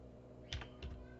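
Two quiet, close key presses on a computer keyboard during work in SketchUp, short soft clicks about a third of a second apart over faint background hiss.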